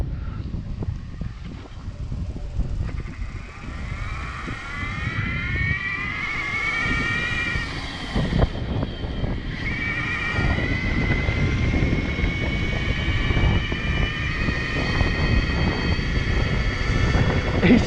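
Bafang Ultra mid-drive e-bike motor with a Phaserunner controller, pushed in a really high gear, gives a steady loud whine with rising pitch sweeps over continuous road and wind rumble, with no talking.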